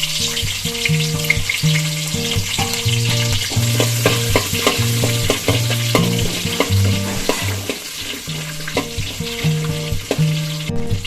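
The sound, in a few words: shallots frying in coconut oil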